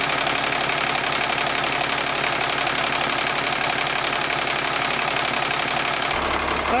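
Small car engine idling on a test run after radiator work, a steady close rumbling idle with an even mechanical pulse throughout, cutting off abruptly near the end.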